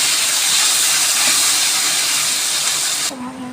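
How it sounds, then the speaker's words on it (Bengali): Prawns frying in hot oil until reddish give a loud, steady broadband hiss that holds for about three seconds, then cuts off abruptly, leaving a quieter hiss and a low hum. "সুন্দর করে লাল লাল করে চিংড়ি মাছটা ভেজে নেব।"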